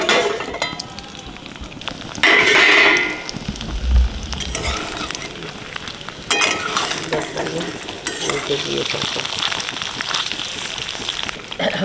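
Singhi fish frying in hot oil in a pan, a steady broadband sizzle with scattered sharp pops and spatters throughout, plus a brief louder burst early on, with no talking.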